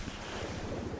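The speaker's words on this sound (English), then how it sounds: "Whoa, I love the water effect." Rolling water ambience from the video game Crysis, a steady broadband wash of surf and waves with wind-like hiss, continuous and fairly loud throughout, with no talking.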